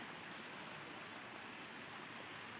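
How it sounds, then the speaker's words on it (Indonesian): A river flowing beside a sacred shrine site outdoors, a steady broadband rush of running water that holds constant throughout, fairly quiet and with no voices over it. "Itu di sebelah kirinya itu ada sungai."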